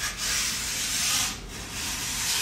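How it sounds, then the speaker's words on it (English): Sandpaper rubs along the sidewall of a ski in two long, close, even strokes with a short pause between them, a dry rasping hiss heard on its own. "I'll take the sandpaper."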